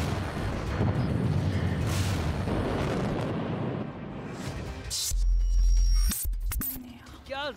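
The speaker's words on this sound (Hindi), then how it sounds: "जब मिसाइल पुल से टकराती है तो कमांड सेंटर में धमाका" A loud, sustained roaring blast rumbles for several seconds as a missile strikes a bridge in Dnipro, Ukraine, followed by sharp booms and crackling bursts, with a voice briefly heard over the noise.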